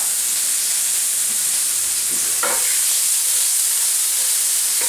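Tomatoes land in a hot pan with garlic and mushrooms and sizzle fiercely, a loud, steady, close-up hiss with a few brief crackling pops and no voices.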